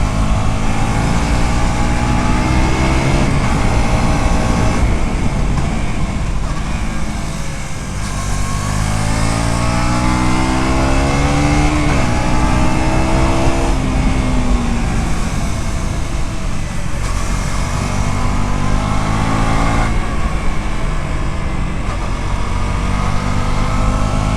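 A 2024 KTM RC 200 GP Edition sport motorcycle roars loudly as its engine revs hard past 6500 RPM, the pitch climbing and dipping through gear changes with strong underbelly exhaust growl and no talk.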